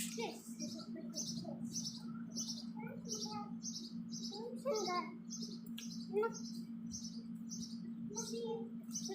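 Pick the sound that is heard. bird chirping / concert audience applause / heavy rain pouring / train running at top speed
bird chirping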